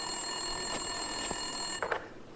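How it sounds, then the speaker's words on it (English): Telephone ringing in the video game Max Payne 2, a faint electronic ring heard as a couple of short bursts over a steady tonal game ambience, with no talking. "Winterson's phone was ringing."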